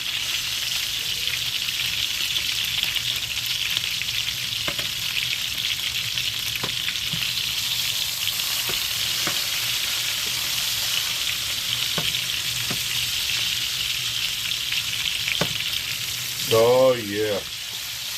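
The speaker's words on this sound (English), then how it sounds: "you want to baste that steak or the burger with that buttery goodness that you're using" A steak sizzles loudly and steadily in a pan of melting butter while it is basted, with faint scattered clicks and a short spoken exclamation near the end.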